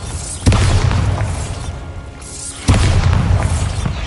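Two heavy Bombarda spell blasts boom in the Hogwarts Legacy game, each a sudden loud explosion with a long rumbling tail, the second arriving about two seconds after the first.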